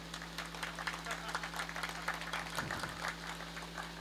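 Applause for a poet at a Hindi kavi sammelan, a crowd clapping steadily over a constant low electrical hum, with the clapping fairly faint but continuous throughout.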